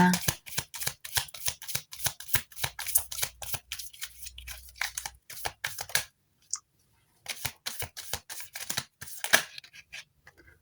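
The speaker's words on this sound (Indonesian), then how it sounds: "kita langsung shuffle kartunya" Tarot cards being shuffled up close, a dense run of quick papery riffles and snaps that breaks off briefly and then starts again. A voice speaks over part of it.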